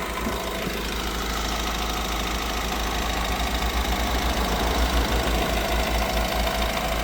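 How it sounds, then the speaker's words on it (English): A Honda HR-V engine idles with the bonnet open, giving a steady, loud, low rumble with a faint mechanical tapping throughout and no talk. "have left the vehicle running."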